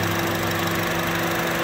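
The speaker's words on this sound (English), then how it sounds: "Car's been running a good 15 minutes now." A 2006 Honda Civic Si engine idles when warm, making a loud, close, continuous low hum with a steady droning pulse and no voices over it.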